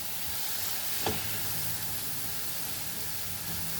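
Tomatoes slowly frying in a pan with no oil for a Goan bhaji give off a soft, steady sizzle close by, with one faint stir or tap partway through.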